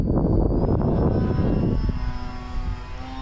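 An E-flite Turbo Timber Evolution RC airplane streaks past in a knife edge pass against a strong headwind, its electric motor buzzing loud and close before easing slightly as it moves away.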